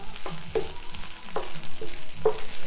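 Tofu fries in a pan with a low, steady sizzle, broken by several clear spatula scrapes and knocks at irregular intervals.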